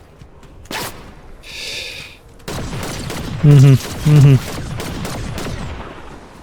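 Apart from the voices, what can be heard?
gunfire in Fortnite video game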